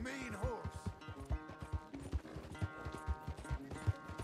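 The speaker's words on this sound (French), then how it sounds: "on peut se faire une petite cavalcade" Horse hooves galloping at a steady rhythmic beat in Red Dead Redemption 2, loud and close, with the game's music playing underneath.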